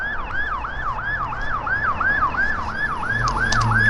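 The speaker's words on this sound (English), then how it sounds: "Got a police car that's about to go by." Police car siren passing by on a city street near the Beltline: a steady wailing up-and-down cycle, loud and close, repeating evenly over traffic rumble with no talk.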